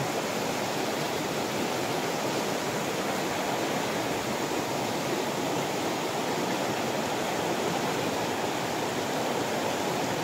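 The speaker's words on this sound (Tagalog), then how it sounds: "Ayan po ang kanilang batis." Steady rushing water of a stream at a campsite in Real, Quezon, flowing continuously, a dense broadband wash with no pauses or voices.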